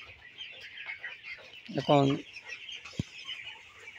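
Hens on a poultry farm give a single short cluck in the middle of a faint, hushed barn ambience with steady background noise; a voice briefly says a word.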